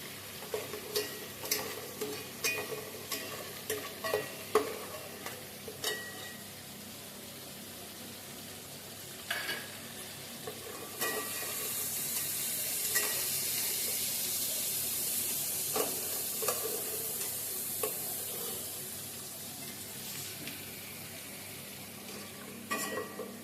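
Cumin seeds frying in a pan with cashews, a steady hiss with repeated scraping taps of a spoon against the pan, swelling into a louder rushing sizzle midway, close and moderate.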